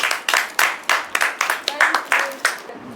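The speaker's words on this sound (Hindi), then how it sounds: "उसके लिए एक बार तालियां बजाई जाए।" An audience claps for a contestant in an idiom quiz challenge, about ten crisp, evenly spaced claps in a steady rhythm over a few seconds.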